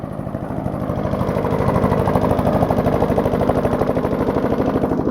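An old jerry-rigged lawnmower engine with a manual throttle idles at low RPM, a loud, close, steady rapid chugging pulse that rises slightly in intensity partway through.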